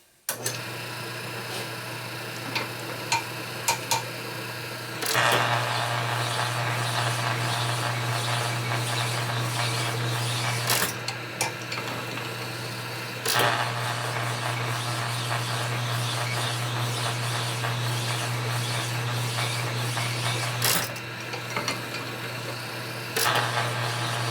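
A rod honing machine runs in a shop while rebuilding connecting rods for a 45ci WL/WLA engine, a steady mechanical whir and low hum with brief clicks and louder surges as the stroke starts and stops, close and continuous.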